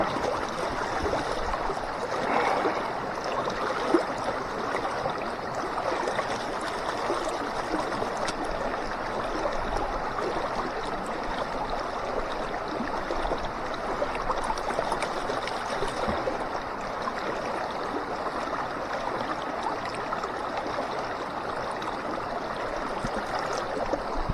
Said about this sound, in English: Try to get out of this fast water.